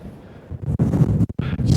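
Strong wind buffets the microphone on a coastal headland near Whitesands Bay and St Davids Head in Pembrokeshire, Wales, as low rumbling gusts that rise and drop in irregular bursts, loud and close.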